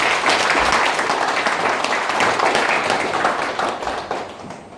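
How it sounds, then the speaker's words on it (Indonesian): Congregation applauding during a church service, a dense, loud, continuous roar of many clapping hands that holds steady and tapers slightly at the end. "beri tepuk tangan buat Tuhan Yesus"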